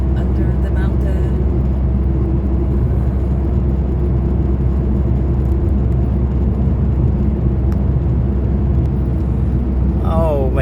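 A car drives steadily through a long 4-kilometre tunnel under a mountain, its loud, constant low rumble and road roar filling the enclosed space with no break, and a brief voice is heard near the end.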